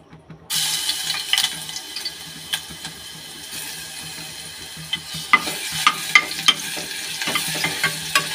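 Garlic dropped into hot oil in a pan just after dried red chillies were fried, setting off a close, steady sizzle with scattered scraping and clicking stir sounds throughout and no talking.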